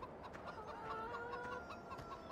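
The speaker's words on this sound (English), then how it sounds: "I know those chickens are quite loud and they're getting annoying already." Chickens on a farm map in the video game Farming Simulator 17 cluck repeatedly in short, steady bursts, moderately close and alone, with no talk over them.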